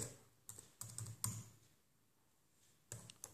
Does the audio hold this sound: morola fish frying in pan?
no